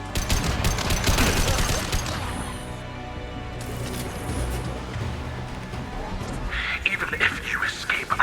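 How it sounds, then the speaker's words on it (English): Heavy automatic gunfire in Mass Effect 2, a dense sustained burst of rapid shots over a busy combat mix with voices and effects, easing into lower rumble before sharper bursts return near the end. "Taking heavy fire!"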